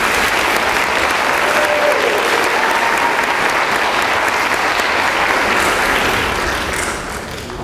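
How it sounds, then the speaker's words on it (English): Sustained applause from an audience at an academic convocation honoring award recipients, dense steady clapping filling the space and holding loud throughout before easing slightly at the end. "Let's give a round of applause to the recipients."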